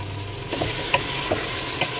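Chicken fries with green chillies in a pan for a Bohra-style chicken palak, with a constant sizzle and several sharp scrapes and clinks of a spoon stirring the pieces.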